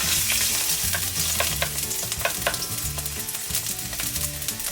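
Julienned ginger frying in a tablespoon of oil in a frying pan or wok, giving a steady loud sizzle with crackling pops and stirring scrapes throughout, no voices.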